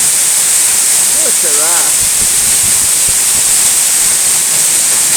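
Eas Mor waterfall sends fast water crashing over rocks in a loud, unbroken roar close by, with a person briefly speaking early on over the rushing water.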